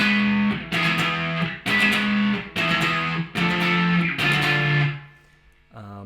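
A distorted electric guitar plays the repeating lead line from a song's pre-chorus, in bright, sustained phrases with short gaps between them, loud and upfront.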